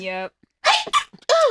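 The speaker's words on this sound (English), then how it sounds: "Bless you." One sharp, close sneeze bursts out between short spoken words, with a brief hum of voice just before.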